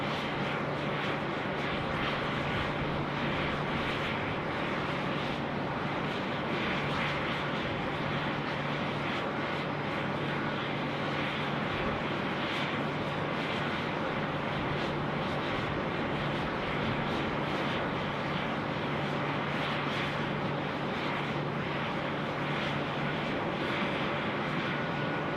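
An airliner takes off at Sydney Airport, its engines holding a steady, broad roar throughout, at a moderate distance and with no talk.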